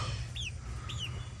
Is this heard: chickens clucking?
yes